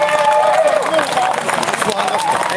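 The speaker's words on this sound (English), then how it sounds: "Every single, yeah, applaud yourself, guys" Rally crowd applauding and cheering outdoors, a dense loud wash of clapping and voices with someone shouting over it throughout.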